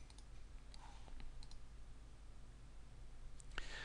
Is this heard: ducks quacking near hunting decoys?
no